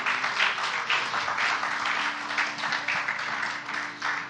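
A church congregation claps loudly and steadily throughout, a dense and sustained wash of applause with no voices rising above it.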